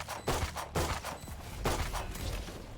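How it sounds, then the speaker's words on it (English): Rapid bursts of gunshots during a competitive Valorant match on the Ascent map, loud, close and overlapping in quick succession, with a few distinct sharp volleys. "Shots from Pith not landing."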